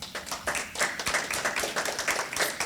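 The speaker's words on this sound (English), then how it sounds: "So help me give the panel a round of applause," An audience applauds a panel at a talk on rent control in Illinois. The clapping is dense and continuous, moderately loud, and fills the whole moment without any speech.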